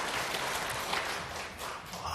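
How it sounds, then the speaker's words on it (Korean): A church congregation applauds during a Sunday sermon, a soft, diffuse wash of clapping heard from a distance, low in level and fairly brief. "우리 박수를 한번"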